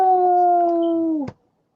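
A single long, steady dog-like howl holds at one pitch for over a second, then cuts off sharply with a brief click, loud and close with no talk.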